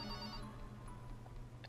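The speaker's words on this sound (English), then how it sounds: "How long is this thing going to ring for? Whoever is calling must really want to get through." A telephone rings in a video game, a faint electronic bell tone sounding at the start and then fading into a low background hum, quiet and alone.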